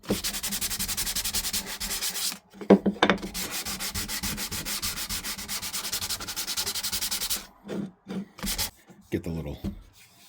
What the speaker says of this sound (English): Run some sandpaper over the top of it.